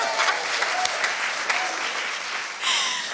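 Audience applause at a live concert, a loud dense burst of clapping from a crowd that swells near the end, with some voices underneath.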